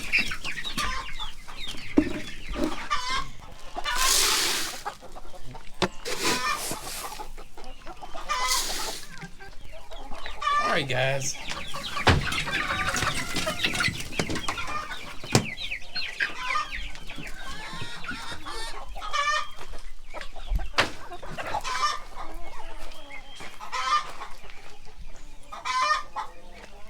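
Chickens cluck and chatter continuously nearby in a barn, with scattered squawks and a rooster crow; someone speaks briefly over them.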